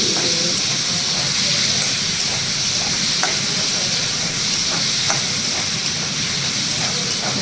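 Saag, a dish of leafy greens, sizzles and fries in a pan while beginning to burn, giving off a steady, loud hiss with scattered pops and crackles. Faint voices can be heard in the background.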